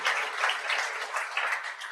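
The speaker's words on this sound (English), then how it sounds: "Give them a round of applause, please." Steady applause from a convocation audience of graduates and guests, a dense even patter of many hands clapping throughout with no pause.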